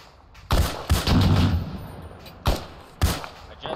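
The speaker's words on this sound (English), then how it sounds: "I got a 50 or something firing on us right now" Heavy .50-calibration machine gun fire in the Arma 3 video game, set in Takistan, with US Marines: several loud, sharp bursts arrive in uneven clusters, a sustained one followed by isolated reports, with no talking.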